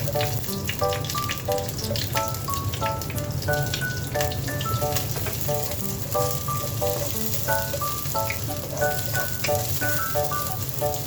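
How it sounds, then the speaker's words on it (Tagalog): Garlic and onion sauté in hot oil in a cooking pot with a steady, even sizzle throughout, while a tinkling music-box melody plays over it. "igigisa muna natin yung ating bawang at sibuyas"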